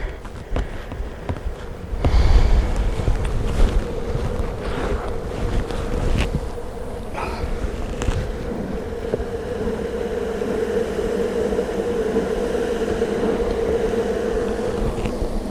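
Deep, steady roar of a mass of bees inside a beehive during hive maintenance, a continuous buzzing hum close to the microphone with some handling knocks and wind rumble.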